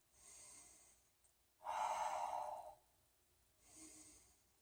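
Slow, deep breathing during a quiet yoga practice, with three soft, drawn-out breaths spaced a few seconds apart, the middle one the fullest and loudest, close to the microphone in an otherwise still room.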